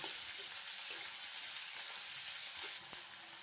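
Thin sliced onions with black cumin sizzling in hot oil for an egg and potato dish, a steady quiet hiss broken by a few soft crackling pops, heard alone with no talk.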